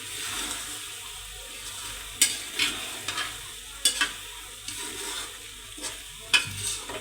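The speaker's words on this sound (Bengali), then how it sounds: "আমি এখন একটু নেড়ে চেড়ে নেব।" Fish and potato curry stirred in a frying pan, a low simmering sizzle broken by sharp, irregular clinks and scrapes of a spoon against the pan, close and without speech.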